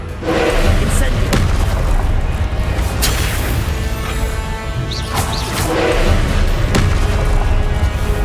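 Incendio fire spell cast repeatedly in Hogwarts Legacy combat, booming bursts and whooshing crashes landing every second or so amid other spell impacts and game noise.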